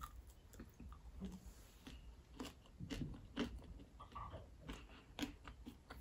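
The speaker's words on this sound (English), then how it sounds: "They give it such a lovely crunch." Very faint, close crunching and chewing of breaded spicy vegetable nuggets from Lidl's Veganuary range, a steady series of small crisp bites repeating throughout with no talk.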